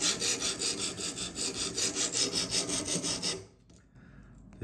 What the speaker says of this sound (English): I find it much nicer to sharp with oil than without any lubrication